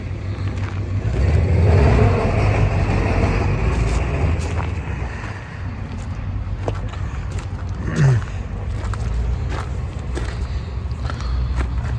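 Engine of a 1984 Buick Regal lowrider idling steadily with a low rumbling drone, close by and continuous, with light handling noises over it.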